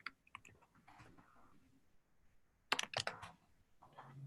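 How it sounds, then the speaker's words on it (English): Fingers tap a computer keyboard in quiet, scattered clicks, a few sparse keystrokes then a quick close burst of several presses, faint overall with no talk. "just typing it in."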